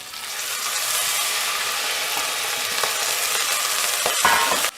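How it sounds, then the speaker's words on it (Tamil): Curry leaves sauté in a hot oiled pan for a mint chutney, giving a loud, continuous close sizzle with light stirring scrapes throughout and a brief clatter near the end. "கருவேப்பிலை ஆட் பண்ணிவிட்டு இது கொஞ்சம் வதக்கிடணும்"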